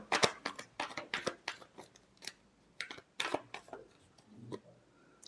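A deck of tarot cards is shuffled near the microphone in fast riffling bursts of crisp flicks and snaps, with short pauses between the bursts.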